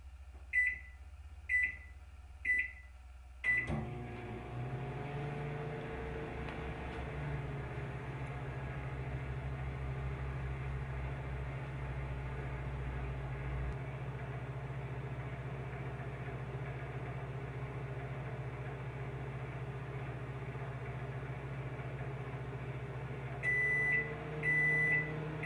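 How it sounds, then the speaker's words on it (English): A microwave oven heats a boxed turkey pot pie: keypad beeps at the start, then a steady low hum and whir runs continuously, ending with a short set of completion beeps near the close. "Place the pot pie in the box in the microwave."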